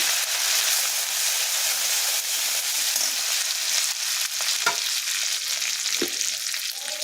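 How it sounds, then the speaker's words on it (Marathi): Cumin and coriander leaves sizzle in hot oil with mustard seeds in a kadhai, a steady close frying hiss throughout, with two sharp spatter bursts near the end and no talking. "तेल टाकले, मोहरी झाली, जिरे टाकूया, कोथिंबीर टाकूया त्यामध्ये"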